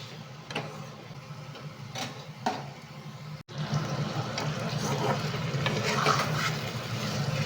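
Curry paste with cumin powder fries in a pan, giving a steady, dense sizzle with occasional scraping knocks from stirring. The sound is close and continuous.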